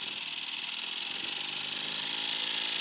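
An RW-BL1K steam engine running at increased RPM, a steady, smooth, fast mechanical whir and hiss filling the space close by without pause.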